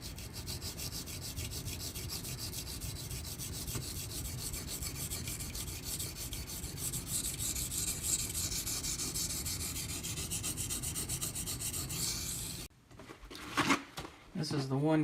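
A Ganzo FH11 knife blade rasps back and forth across a 1K silicon carbide sharpening stone in steady, close scraping strokes for most of the stretch, then stops before a few brief handling noises.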